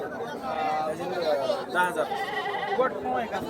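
Billy goats bleat several times in quavering calls at a busy goat and sheep market amid a background of people chattering nearby.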